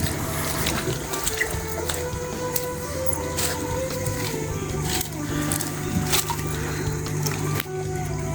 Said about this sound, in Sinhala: ඔයාලට පේන්නේ නැති මේ ටැංකේ වතුර පොඩ්ඩක් බසන ගමන් තියෙන්නේ